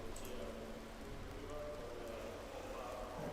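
Heavy rain pouring down during a racing video game at Silverstone, a steady hiss of drops on surfaces with a low engine drone underneath, even and continuous throughout.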